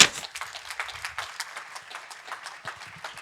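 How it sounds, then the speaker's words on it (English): Sparse audience applause for speaker Noel Seitner in a hall, light, uneven individual claps that continue steadily and fade slightly, with no talking over them. "Give him a big hand of applause."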